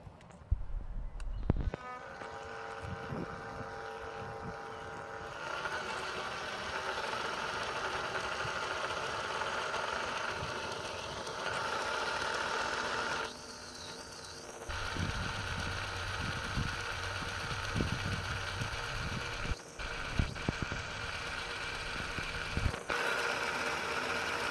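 Daiwa Tanacom 1000 electric fishing reel motor spooling line, a steady mechanical whir with a continuous hum that shifts pitch a few times and ends with short clicks, close by with no talking.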